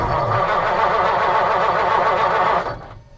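A 1951 Mercury sedan engine cranks on a cold start, a loud, steady churning drone that runs for nearly three seconds before cutting off abruptly.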